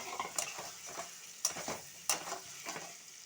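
Fried potatoes and cauliflower are stirred into oily spice paste in a pan for an egg curry with yellow cauliflower, giving a quiet sizzle broken by a series of sharp spatula scrapes and clicks, with no talk.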